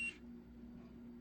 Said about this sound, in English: it'll beep at you if you are out of the range of the pendulums